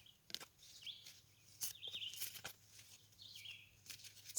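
Small birds chirp and twitter outdoors, with several short calls repeating faintly over a low steady hum and occasional soft knocks.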